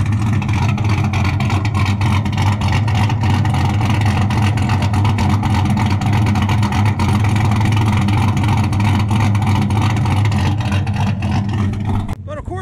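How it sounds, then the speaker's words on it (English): A deep, lumpy V8 engine in a 2014 Chevrolet Silverado 4WD with a big camshaft, long tube headers, no cats and Corsa Sport catback exhaust burbles and revs loudly and continuously, with a choppy idle rhythm and rough exhaust note throughout. "this is what it sounds like with stainless works long tube headers, no cats, Corsa Sport Catback exhaust, and a giant camshaft"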